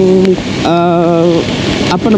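Steady rain during a solo motorcycle tour from Jakarta to Bali, a dense, close hiss of falling water that runs throughout, with a voice-like tonal sound rising over it in the middle.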